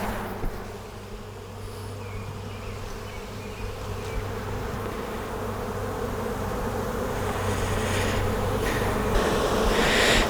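Dense buzzing of many honey bees, close and continuous, swelling louder toward the end with occasional thumps and rustles.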